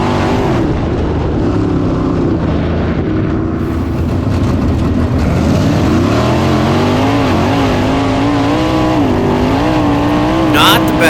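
A race car roars through a restart at Lawrenceburg Speedway, its engine a loud, continuous drone rising and falling in pitch as it accelerates, with a voice talking over the engine noise.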